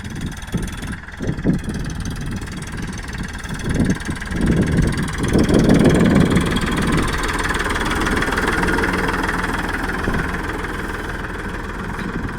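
A Farmtrac 42 Pro Max tractor engine runs steadily and loudly nearby while the tractor drives over a fungus-hit crop field, a continuous low diesel rumble with vibration.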